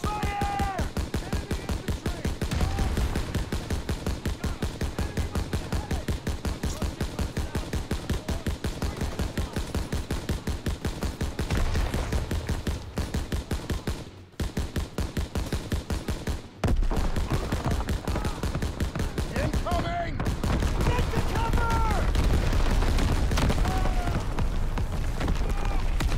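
Relentless rapid gunfire from rifles and machine guns fills a Call of Duty WWII battle, loud and nearly continuous with brief gaps, while soldiers shout orders and warnings underneath.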